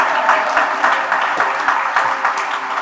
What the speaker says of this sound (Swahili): Situmpigie Yesu makofi.